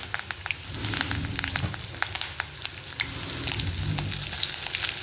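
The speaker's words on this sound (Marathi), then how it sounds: "हिरव्या मिरचीचे तुकडे टाकलेत आपण मग असं हे आपल्याला परतून घ्यायचं आहे" Turmeric, asafoetida, curry leaves and green chilli pieces sizzle and crackle in hot oil for a potato bhaji tempering, with a steady close frying hiss and scattered sharp pops throughout, no voices.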